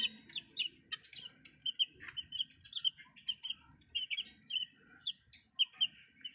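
Small chicks peep in quick, high, bright chirps, many overlapping in an irregular busy stream, close but fairly soft, with faint low rustling underneath.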